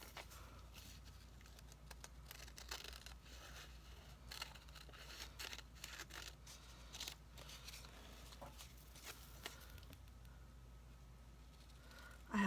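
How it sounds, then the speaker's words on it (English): Scissors snip steadily through thin paper doilies, a faint close-up series of small crisp cuts and rustles continuing throughout, with no talking. "So I'm just going to cut them with my scissors"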